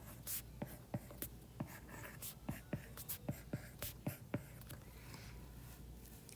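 Marker or chalk tapping and scraping on a board while a tree diagram is drawn during a lecture, a series of short, evenly spaced strokes heard close and fairly quiet, with no speech.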